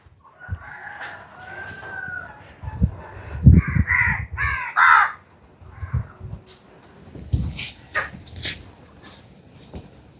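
Several crows caw loudly nearby in ragged bursts, mixed with other bird calls and barks, and a busy outdoor background.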